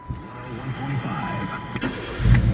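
A 1992 Chevrolet Lumina APV with a 3.1 V6 engine cranks and starts close by, the brief churning cranking giving way to a louder catch at the end.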